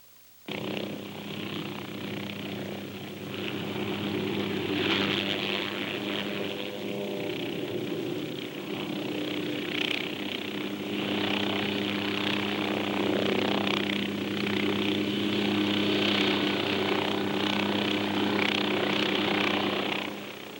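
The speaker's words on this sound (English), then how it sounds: "you pivot the helicopter around the tail rotor" An OH-6 helicopter pivoting around its tail rotor near the ground, a steady droning turbine whine with rotor hum that holds constant throughout, moderately loud and continuous with no speech.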